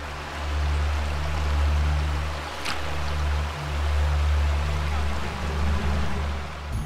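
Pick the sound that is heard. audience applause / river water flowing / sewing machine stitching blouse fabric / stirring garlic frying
river water flowing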